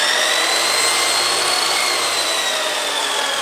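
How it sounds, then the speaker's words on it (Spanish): A power drill fitted as a mixer whirs steadily while beating dough in a home kitchen, a loud continuous motor whine with a harsh grinding edge, unbroken for the whole span and with no voices. "Un taladro para batir la masa."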